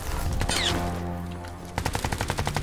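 Gunfire in the shooter game Crysis 3, a loud sustained wash of shots and effects that gives way to a rapid, evenly spaced burst of automatic fire, with no talking.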